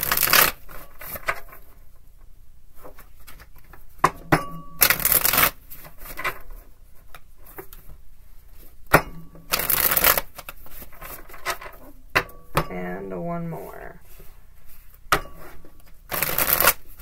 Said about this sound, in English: Let's try that again. Four shuffles.